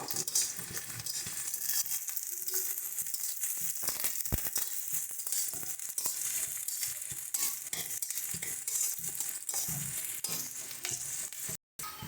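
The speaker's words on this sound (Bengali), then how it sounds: "পেঁয়াজ ফোড়ন দিয়ে দিচ্ছি কালো জিরে হালকা করে পেঁয়াজটাকে একটু ভেজে নেব" Sliced onion fries with black cumin seeds in hot oil in a pan, a steady close sizzle with occasional stirring scrapes throughout.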